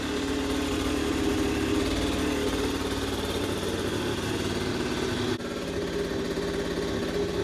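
A 2015 moped engine runs at a steady idle after being kick-started, a close, continuous buzzing drone with a slight dip partway through and no talking.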